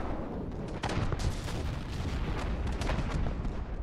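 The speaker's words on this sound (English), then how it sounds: "Cruise missile." Cruise missile launch in the naval combat game From The Depths: a dense, continuous roar of booming blasts and rumbling fire, loud and sustained throughout with no pauses.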